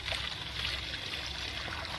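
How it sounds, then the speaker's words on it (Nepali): Clean water poured from above through a pipe into an old hand pump, a steady rushing trickle that holds even and fairly quiet throughout with no voices. "त्यसपछि यो पाइप हालेर माथिबाट सफा पानी हाल्नुपर्छ"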